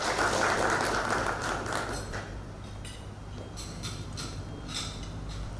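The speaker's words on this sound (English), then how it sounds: "Once again, a round of applause to our patron." Applause for the patron at a football event gathering, a dense burst of crowd clapping that starts loud and thins gradually into scattered claps.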